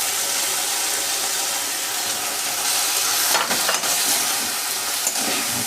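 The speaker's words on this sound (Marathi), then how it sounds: "त्यानंतर मी ही जी शिमला मिरची आहे, शिमला मिरची ॲड करत आहे." Capsicum is stirred into chilli paneer in a pan over a low flame. A steady, close sizzling hiss continues throughout, broken by a few brief stirring scrapes midway, with no talk.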